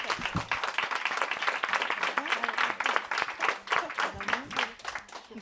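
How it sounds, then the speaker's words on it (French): Hearty audience applause at the close of a talk on rediscovering everyday play, held at CAF du Nord with the PMI: steady, dense clapping from a roomful of people, loud and sustained for several seconds. "Je vous propose qu'on applaudisse nos intervenants et intervenantes."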